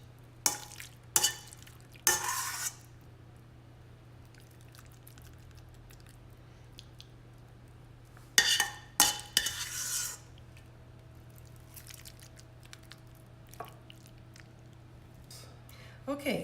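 Seafood penne being scooped into a serving dish, with a few clattering scrapes of a utensil against the dish in short bursts separated by quiet stretches over a low hum.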